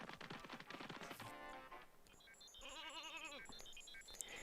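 A sheep bleating in the Space Station Silicon Valley video game: one faint wavering bleat in the middle among quiet game tones and clicks.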